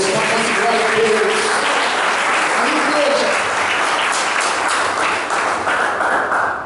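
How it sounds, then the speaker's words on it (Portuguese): A church congregation claps loudly together during a worship service, a thick continuous wash of hand claps at close range, with fading music chords at the start and some voices beneath. "Palmas e glória a Deus."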